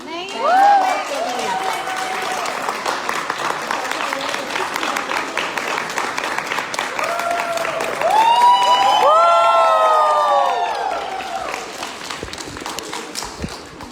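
An audience at an indoor gathering keeps up steady clapping with scattered cheers, while people talk and call out over the applause, which swells louder partway through.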